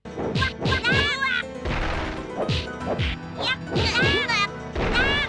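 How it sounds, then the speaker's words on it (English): Repeated heavy punch impacts with sharp smacking hits, several in quick succession, mixed with a squealing, cat-like synthetic cry, loud and close; sound effects from a 2000s licensed anime video game. "every time you throw a punch you have to hear this"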